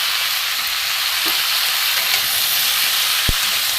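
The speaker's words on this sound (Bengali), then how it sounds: "একটু নেড়ে দেবো।" Rohu fish curry with salt and turmeric sizzles steadily in a hot pan as it is stirred, a continuous close hiss with a single sharp clink of the utensil near the end.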